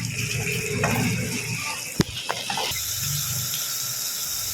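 Water splashes and gushes steadily into a pot of spinach and chana dal, a continuous pouring sound with a couple of brief clinks partway through.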